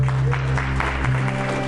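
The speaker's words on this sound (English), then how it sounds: "Give Lord a hand clap and praise." A church congregation claps along in praise during worship, rhythmic hand claps over sustained music and organ-like tones, a short burst.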